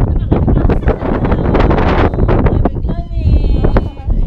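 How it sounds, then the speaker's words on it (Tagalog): Strong wind buffets the microphone in gusty, loud bursts by the sea at Sabang, Del Gallego, while people speak over the roar. "Sobrang lakas ng hangin."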